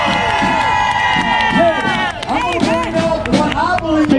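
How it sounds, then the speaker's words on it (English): An event crowd cheers and claps together, with overlapping shouts and whoops rising and falling over a steady bed of clapping, loud and close, with voices calling out throughout. "Come on, Patriots, give God one more hand clap."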